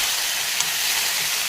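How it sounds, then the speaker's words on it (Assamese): Onion and green chili frying in hot oil with a pinch of turmeric, a dense, even sizzle held close and loud throughout the short moment, with no one talking. "এয়া তেল গৰম হ'ল পিঁয়াজ জলকীয়া অলপ ভাজি লৈ হালধি দিলোঁ"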